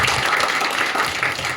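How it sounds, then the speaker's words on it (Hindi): Audience applause at a campus product testimonial event, a dense steady wash of clapping filling the room for a moment, loud and continuous without pause. "जोरदार तालियां हो जाए।"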